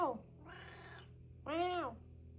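A house cat meows twice close by, a short strained call followed after a pause by a longer, louder, rising and falling meow, over a faint low hum.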